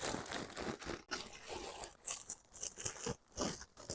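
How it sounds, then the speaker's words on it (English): A bag full of Doritos tortilla chips is crushed by hand into small pieces, making continuous close, loud crunching and crinkling of chips and bag in uneven bursts, with no talk. "we're going to take a bag full of Doritos and we're going to crush them up"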